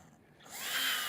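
An electric drill bores into a wooden raised flower bed, its motor whine rising in a quick ramp and then holding steady and fairly loud, with no voices over it.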